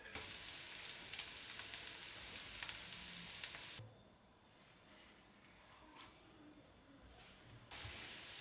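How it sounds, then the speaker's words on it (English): Cubes of meat searing in a pan for goulash, a bright steady sizzle that drops away for a few seconds mid-way, then returns at full hiss. "Sauté the meat for about 2 or 3 minutes just to sear it nicely."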